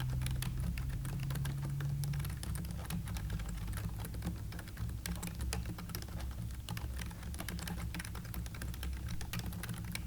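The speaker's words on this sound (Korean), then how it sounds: "저소음 키보드라서 조용한 편이라고 말씀을 드릴 수가 있을 것 같은데" Soft, rapid keystrokes patter continuously on a quiet low-noise Logitech Wave Keys ergonomic keyboard, muted clicks in an even, fast rhythm with faint room hum beneath.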